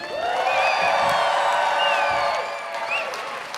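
A convention audience cheers and applauds at the close of a dance competition, a dense sustained roar of claps and whoops that swells, then tapers near the end, with shouted voices on top.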